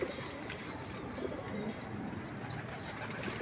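Pigeons coo at a pigeon loft, a dense, steady murmur of birds with a few higher calls standing out over the constant flock noise.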